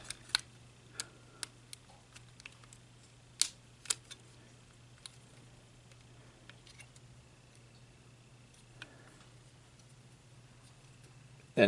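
Plastic parts of a transforming robot toy from the Hagen and Ordin Cutthroat and Abominus set being folded and snapped into place, a series of sharp, close, irregular clicks over a quiet hum.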